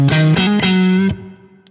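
An electric guitar plays through a Marshall JMP module on a Synergy amp with no boost, producing a few loud, crunchy distorted chords that ring out and then fade away.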